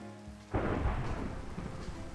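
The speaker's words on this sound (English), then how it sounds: "Thunderstorm." Thunder from a thunderstorm in Minecraft breaks with a sudden crack and then rolls on in a rumble over falling rain, soft and somewhat distant.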